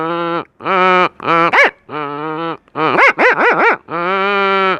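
A man imitates an angry dog with his voice, producing a series of loud, close growling barks and snarling yelps in uneven bursts, some rising and falling sharply in pitch.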